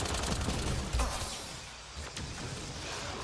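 Gunfire in the video game Mass Effect: Andromeda, a rapid series of sharp shots mixed with combat noise and a few louder bursts, at moderate level throughout.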